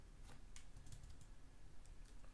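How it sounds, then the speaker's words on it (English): A computer keyboard is typed on in quick, light taps, faint and close, with a soft irregular clicking rhythm over quiet background noise. "you're gonna have to type Euro X"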